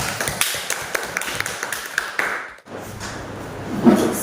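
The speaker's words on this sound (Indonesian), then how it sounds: "Ya, tepuk tangan dulu untuk Nanda." Brief classroom applause for a student, scattered overlapping claps from a small group of pupils, moderately close, fading out midway and followed by a short quiet gap.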